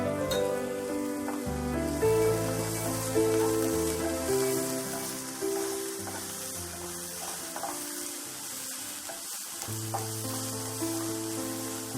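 Finely chopped onions fry in a pan with a little salt, giving a steady crackling sizzle with occasional stirring scrapes, close and continuous throughout.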